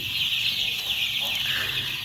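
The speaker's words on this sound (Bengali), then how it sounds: "এই হলো আমাদের চোদ্দো দিনের সোনালি মুরগির বাচ্চা" Fourteen-day-old Sonali chicken chicks fill the space with a dense, continuous chorus of high-pitched peeping, close by and unbroken throughout.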